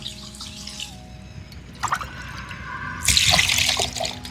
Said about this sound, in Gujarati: આપણે અત્યારે ચોખ્ખા પાણીથી એને બેથી ત્રણ વાર ધોઈ લઈએ છીએ